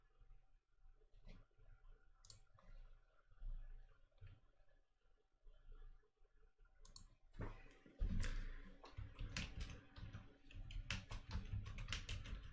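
Typing on a computer keyboard: soft, scattered keystrokes at first, then a denser, louder run of rapid clattering keys near the end, close-miked over a faint steady hum.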